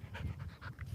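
A local dog sits close by panting in quick, rhythmic bursts, several short breaths within a second, with no talk over it.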